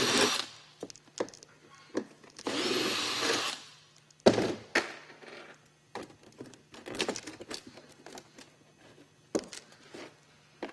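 Sharp metallic clanks, scrapes and taps from hand tools removing fasteners from a metal roof tile, with a sustained grinding burst early on and a steady low hum underneath.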